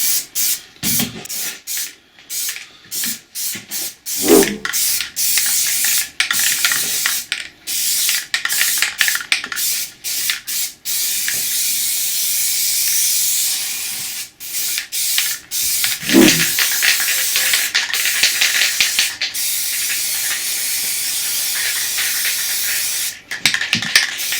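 Aerosol can of Plastidip spraying onto a car wheel's centre cap, a long loud steady hiss broken by short pauses and a few knocks, close by.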